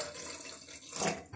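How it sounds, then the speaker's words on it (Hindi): Water pours into a kishmish and saunf sharbat being mixed, a short liquid splash and trickle, close and fairly quiet, with no voices. "अब हम इसमें पानी शामिल करेंगे"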